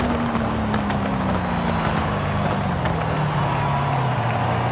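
Nissan 350Z driving in Forza Horizon 5, a steady engine drone with a slowly falling pitch, continuous and fairly loud, no talking.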